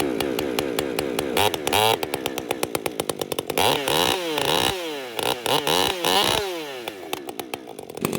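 A 50cc chainsaw started with a pull cord revs hard, then idles and revs again in loud, close bursts with the throttle blipped up and down.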